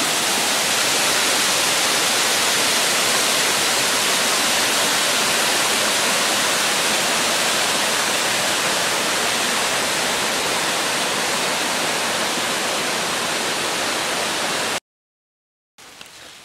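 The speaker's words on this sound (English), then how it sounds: "we've been walking next to this beautiful waterfall" Loud, constant roar of rushing water from a nearby waterfall in the White Mountains, a dense steady wash that cuts out abruptly near the end.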